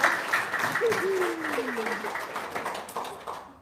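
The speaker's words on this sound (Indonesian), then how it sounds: "Saya tepuk tangan dong" Clapping from a seminar audience rises briefly and tapers off over a few seconds, with a voice speaking over it and a short vocal exclamation near the start.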